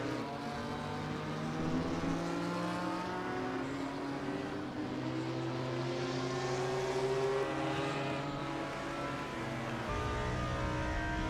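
Race cars in a racing video game at Indianapolis, engines humming loudly and continuously as they run close together in an overtake, pitch rising and falling through gear changes with a sudden shift near the end.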